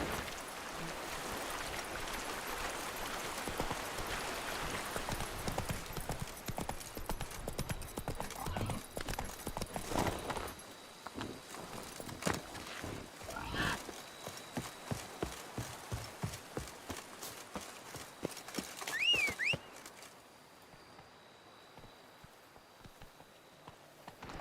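Hooves of Roach, Geralt's horse in The Witcher 3: Blood and Wine, pounding in a fast, close clip-clop that grows sharper and more spaced toward the end, with a short whinny near the close.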